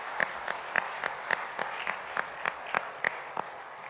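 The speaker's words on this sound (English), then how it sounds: "a big hand of applause to the great work by Bank of Baroda and the team here." An audience in a hotel grand ballroom claps steadily, with sharp regular hand claps standing out over a softer spread of applause at moderate distance.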